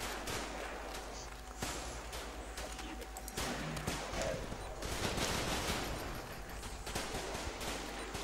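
Machine gun fire rattles in the war game Running With Rifles, with dense bursts and fusillades of shots crackling through the scene amid other battlefield noise.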